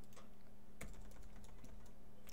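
Quick, soft keystrokes tap on a computer keyboard in an irregular run while a label is typed in, close and fairly faint over a low steady hum.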